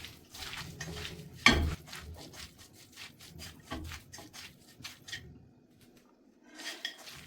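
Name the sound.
hands rubbing dry shark fish with coconut oil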